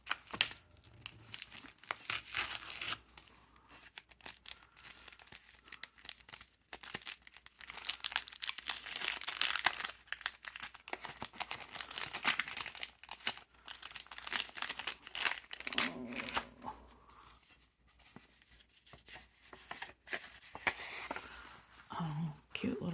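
Handmade paper gift packages are unwrapped up close, with crinkling and tearing paper in irregular bursts, while someone talks softly over much of the rustling.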